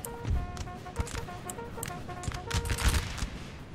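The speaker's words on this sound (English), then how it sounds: "people are shooting from an incredible range" Musket volleys crackle in Napoleonic Total War 3, with scattered shots and a few heavier booms at mid distance over low battlefield rumble and no voices.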